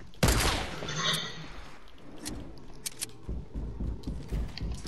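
Drum gun in Fortnite Desert Zone Wars, a rapid burst of gunfire opening sharply, then scattered shots and clatter trailing off, close and loud.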